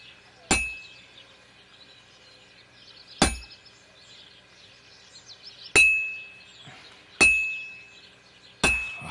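Hammer blows on metal at an anvil in Kingdom Come Deliverance 2: five sharp, ringing clanks spaced a couple of seconds apart, each with a bright metallic ring that fades over a quiet background.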